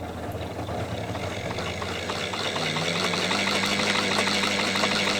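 A countertop mixing machine whirs steadily as it whips iced coffee into froth, a close, continuous motor hum with a buzzing rattle that rises slightly in pitch as it speeds up.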